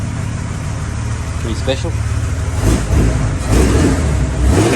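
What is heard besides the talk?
Valiant VJ Charger 265 Hemi engine revving, hot dog exhaust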